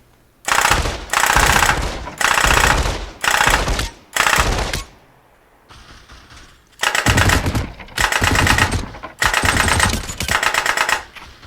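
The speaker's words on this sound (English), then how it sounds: "So here's another fully automatic rifle" A fully automatic rifle in a virtual reality game on Meta Quest, using a haptic rifle stock, fires in loud, rapid bursts of about a second each. There are seven bursts separated by short pauses, with a quieter mechanical clatter in one gap.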